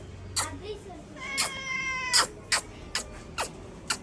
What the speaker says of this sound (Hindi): प्यारी प्यारी, ये गाइस मेरी बिल्लू। म्याऊं